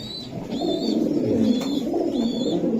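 Racing pigeons coo in soft repeated phrases, a few calls a second apart, heard close and clear over a low murmur of background noise.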